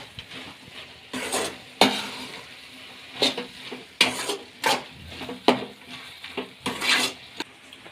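A spoon stirs cauliflower palya with spices in a pan, producing irregular scraping and clinking knocks against the metal over a light sizzle, close and fairly loud with no talking.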